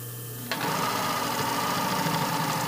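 Sewing machine stitching a seam on panty fabric, starting abruptly and running at a steady fast whir with a rapid rhythmic needle chatter, close and alone.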